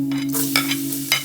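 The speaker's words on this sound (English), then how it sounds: "I'm going to put cumin seed first. Let it little bit brown." Cumin seeds frying in hot oil for a potato and lamb curry: a crackling, hissing sizzle with sharper bursts roughly every half second over a steady low hum.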